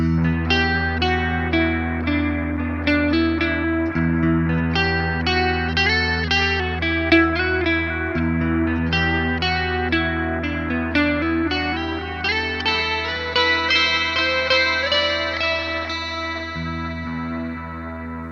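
Distorted electric guitar with chorus and echo effects plays a sustained riff in the Aeolian minor mode, steady and prominent throughout, with chords and held notes ringing continuously and no voice over it.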